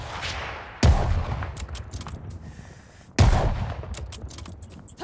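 Two loud, sharp gunshots ring out in the Call of Duty Vanguard campaign, a few seconds apart. Each is followed by a long, echoing tail, with faint scattered clicks and ambience between them.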